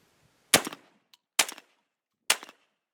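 A Browning Maxus shotgun fired three times with 3.5-inch, 2 3/4-inch and 3-inch shells, sharp loud blasts spaced roughly a second apart, each with a brief echoing tail, plus a faint mechanical click between the first two.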